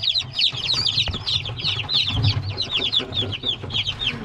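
Dense chorus of high, rapid chirping and peeping from many newly hatched chicks from an incubator, continuous and close, with occasional low rustling underneath.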